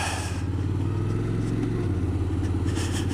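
A 2021 Honda Forza scooter engine drones steadily and close by while riding, a continuous low hum with a slight rise in pitch near the start and wind noise over the top.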